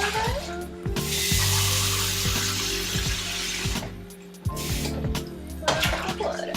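Water runs from a tap and is poured into a cooking pot for rice in a dorm kitchen, a steady broadband rush lasting several seconds with brief breaks and handling clunks.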